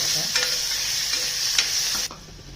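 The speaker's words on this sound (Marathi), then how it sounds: "कांदा चांगला बारीक मऊ असं होईपर्यंत परतून घ्यायचा कांदा" Onion being sautéed in a pan gives a close, steady sizzle broken by a few scrapes of a stirring spoon, then cuts off abruptly near the end, with no talking.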